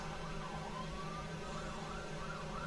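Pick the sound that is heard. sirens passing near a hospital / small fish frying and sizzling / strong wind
sirens passing near a hospital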